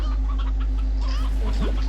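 A video game chicken gives a few quick clucks over a constant low electronic hum, loud and close, ending in a short rising squawk.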